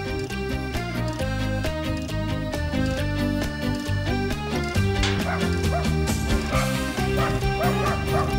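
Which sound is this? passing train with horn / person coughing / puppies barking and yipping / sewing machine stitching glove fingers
puppies barking and yipping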